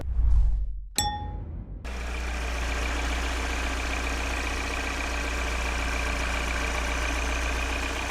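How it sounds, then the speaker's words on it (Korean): A single metallic clank rings out, then the engine of a 2021–2022 Genesis G80 settles into a steady, even idle that hums on without change, heard with the hood open. "엔진 소리 굉장히 정숙하고요"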